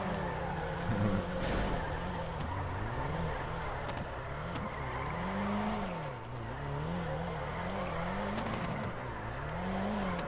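A car engine revs and drops continuously through a racing video game lap, the pitch rising and falling with each shift and corner, with brief tire squeal, loud and steady, no talking.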